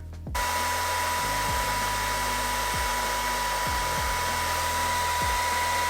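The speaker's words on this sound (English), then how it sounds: "I'm gonna hit it with the blow dryer." A blow dryer runs steadily and loudly throughout on a lace wig, its motor whine constant with a few brief pitch dips, no voices.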